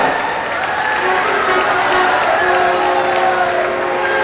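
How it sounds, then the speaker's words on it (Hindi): Audience applause at a formal welcome ceremony for a chief minister, a steady dense wash of clapping with some crowd noise and voices mixed in, holding evenly loud throughout. "जोरदार तालियों के साथ स्वागत"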